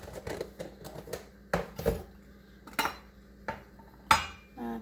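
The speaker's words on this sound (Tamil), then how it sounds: "சீஸ் ஆட் பண்ணி நம்ம நல்லா மிக்ஸ் பண்ணியாச்சு." Cheese being mixed into lettuce and egg in a pan at breakfast prep, heard as several sharp utensil clinks and scrapes against the pan, irregularly spaced, close and moderately loud with no talking.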